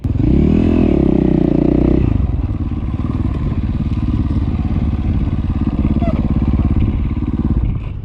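A dirt bike engine revs loudly and up close on a mountain hillclimb in Idaho, with a steady throbbing drone that rises, then settles into a lower churning pulse with some clatter.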